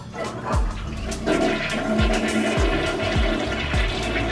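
Airplane toilet flushing a roll of toilet paper, with a loud steady hiss and a series of sharp, repeated sucking whooshes close by.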